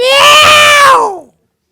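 A person imitates a cat in heat with a single loud, drawn-out, whining meow that rises and then bends down before stopping abruptly, close and alone.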